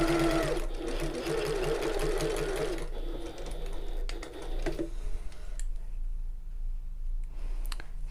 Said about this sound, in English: I'm just using a close machine stitch because I hate hand stitching